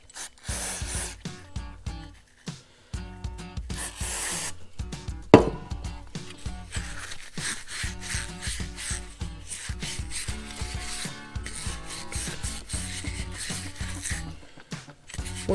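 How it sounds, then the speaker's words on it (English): A Scotch-Brite pad scrubs the float bowl of a Predator 4000-watt generator carburetor in short, rapid rubbing strokes. The scrubbing stays close and steady for the whole span, with brief pauses between bursts. "We'll use a Scotch-Brite and clean the crud out"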